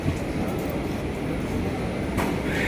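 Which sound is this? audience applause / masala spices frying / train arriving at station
train arriving at station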